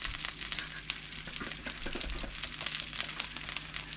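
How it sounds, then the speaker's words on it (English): Shishito peppers fry in a hot pan with a steady, close sizzle, broken by scattered sharp pops and crackles as the peppers burst. "I recommend you wear some kind of eye protection as the pepper keep exploding"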